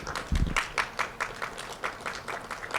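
Audience at a closing ceremony with a book reading and discussion claps, the applause moderate and rather thin, with a heavier thump near the start and loose irregular claps through the rest.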